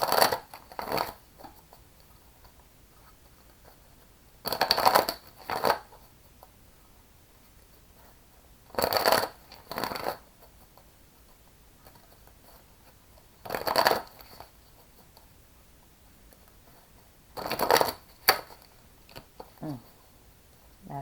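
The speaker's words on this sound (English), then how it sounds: "Let me shuffle." Oracle cards are shuffled in short, crisp bursts of riffling, repeated about five times with quiet pauses between each.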